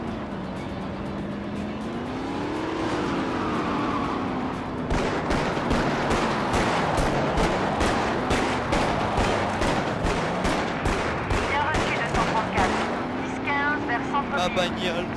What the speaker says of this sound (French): Arrête de tirer sur ma bagnole, Hutch!